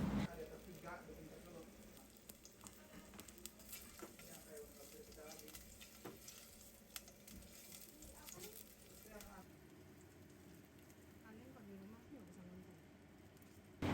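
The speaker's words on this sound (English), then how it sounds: "We'll saute these for about 2 to 3 minutes to really wake up that fragrance" Ginger sizzling steadily in hot oil in a pan, a soft continuous frying crackle with occasional stirring scrapes, faint and close throughout.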